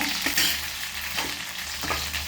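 Onions sautéing in oil in a pan for a horse gram curry, a steady close sizzle with a few soft stirring scrapes and no voices.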